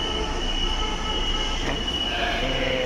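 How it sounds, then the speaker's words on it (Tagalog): Inside a moving passenger train bound for Baclaran, a steady rolling rumble runs throughout, with sustained high-pitched wheel squeal from the rails. Close and continuous, with no talking. "nandito na kami sa tren"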